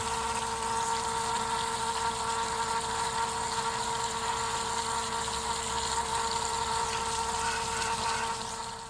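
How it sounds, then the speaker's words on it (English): A crocodile enclosure refills with water: a constant pumping hum and rushing gush continue steadily without pause, with a steady mechanical tone underneath. "the water in there is refilling"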